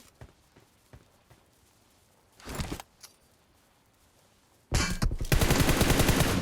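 Gunfire in the PUBG Mobile video game: a few scattered single shots and a brief loud burst, then sustained rapid automatic fire that grows dense and loud toward the end.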